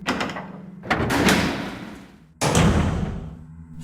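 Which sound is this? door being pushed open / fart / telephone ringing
door being pushed open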